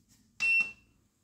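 A single electronic beep from a portable power station, high and tonal, lasts about a quarter second and then fades out in an otherwise quiet room.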